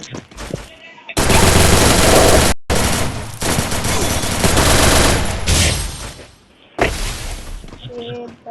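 Rapid automatic gunfire in the mobile battle royale game Free Fire, loud sustained bursts separated by brief gaps, with a voice talking over the shooting.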